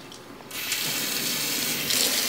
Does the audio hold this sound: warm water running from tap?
yes